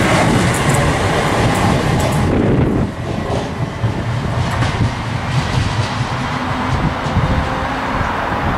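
A ScotRail Class 318 electric train passes close by on the Dalmuir to Larkhall service, a loud, sustained rumble with rhythmic wheel clatter that stays strong throughout.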